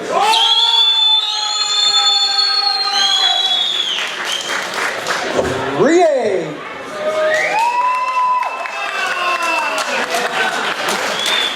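A crowd at a startup pitch event cheers and shouts loudly throughout, voices whooping and rising together in a bright, continuous roar with clapping mixed in.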